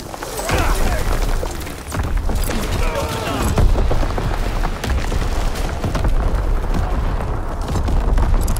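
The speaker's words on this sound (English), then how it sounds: "Incoming enemy artillery!" Incoming enemy artillery shells in Call of Duty: WWII burst in a dense, continuous barrage of booms and rumbling blasts, loud and sustained, with voices speaking over the chaos.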